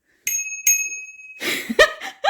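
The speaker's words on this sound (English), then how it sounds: "it's cute little ting ting bell" A small bicycle bell on a newly built bike dinged twice in clear ringing strikes with a lingering tone, followed by laughter and chuckling nearby.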